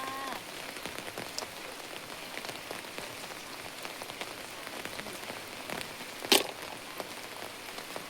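Steady rain pattering on a surface, a dense continuous hiss of drops with one brief louder splash near the end.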